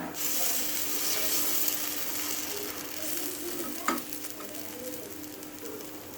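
Kuli paniyaram batter sizzles steadily in a pitted pan while the dumplings are loosened and flipped, a continuous frying hiss broken by a sharp utensil tap near the middle.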